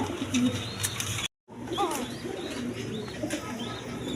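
A pair of Basiraj pigeons at a breeder's farm coo steadily in a dense, continuous murmur of bird calls, broken by one brief dropout of total silence before the cooing resumes.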